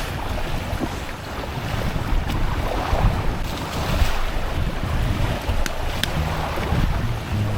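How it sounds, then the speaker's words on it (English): Steady wind roars and buffets the microphone aboard a Windrider 17 mini trimaran dinghy under sail on open water, with waves washing against the hull beneath a continuous, loud rush of air and no voices. "Wind's picked up a bit."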